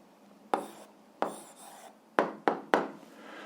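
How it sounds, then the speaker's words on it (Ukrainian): A pen writes an answer by hand on paper in several short separate strokes, each a brief scratchy swipe, close and quiet. "записуємо відповідь, пишемо відповідь"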